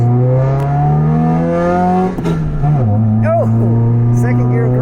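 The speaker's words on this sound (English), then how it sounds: "I tried to do that burnout." Loud, sustained engine drone from a Honda hatchback pushed hard in a burnout attempt, its pitch holding steady, dipping briefly and then settling back, with harmonic whine throughout and voices talking over it.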